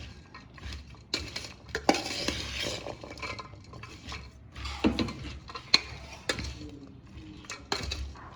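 A spoon stirs kerda pickle to work turmeric through it, giving close scraping and clinking against the vessel in uneven strokes with occasional sharper knocks, no talk over it.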